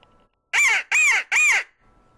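Three loud, raspy caws from a crow call, an imitation made by a hunter at daybreak to provoke turkeys into gobbling, evenly spaced and close against an otherwise quiet background.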